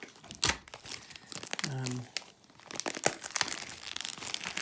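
Thick plastic wrap crinkling and tearing as it is pulled off a DVD case, close and intermittent with sharp rustles, alongside someone talking.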